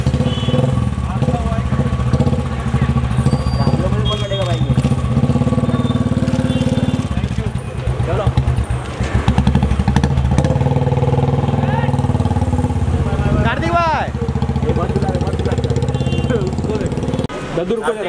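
A motorcycle engine runs steadily at close range outside an office in Bandra, its low hum continuous under a dense crowd of shouting voices and chatter.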